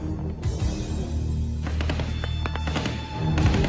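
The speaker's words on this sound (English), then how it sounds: "Hidden men opened fire" Scattered gunshots crack out in a dramatized ambush at an airstrip, a few sharp distinct reports and short clusters over a low rumbling background.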